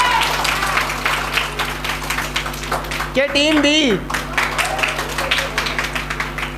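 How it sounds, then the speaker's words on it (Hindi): Audience applause for two competing teams at a college farewell poetry event, steady clapping through the whole stretch with a voice calling out over it midway. "दोनों टीमों के लिए भरपूर तालियां एक दफ़ा।"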